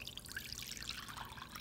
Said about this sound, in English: Let's empty our coconut water out.